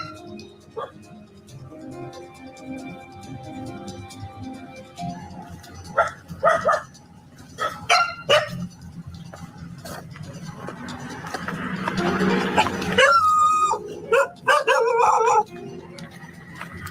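Dogs bark in bursts outdoors, with a long howl rising in the middle, some at mid distance and others closer, spread over quiet background with intermittent talk.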